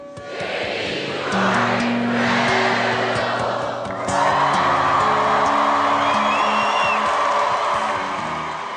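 A recorded crowd of people cheers loudly, a broad swelling roar of many voices that surges and holds steady.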